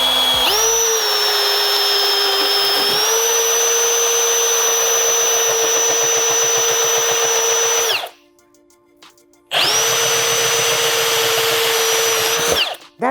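A Milwaukee M18 Fuel Super Hawg right-angle drill boring test holes, a loud sustained high whine that climbs in pitch as it spins up, cuts out briefly, then restarts for a second long run before stopping.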